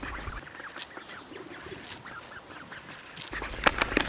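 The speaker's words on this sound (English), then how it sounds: "These are young mallard." Young mallard ducklings in a farmyard give soft, busy quacks and peeps throughout, fairly faint and clustered, with a sharper burst of calls near the end.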